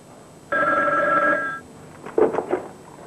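An old-style telephone bell rings once in a 1994 Pakistani drama, a bright buzzing ring of about a second, followed by faint clattering sounds.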